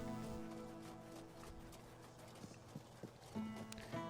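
Horse hooves clip-clop steadily in the fantasy game Tainted Grail, a close, even rhythmic trot with a brief whinny-like sound and soft background ambience.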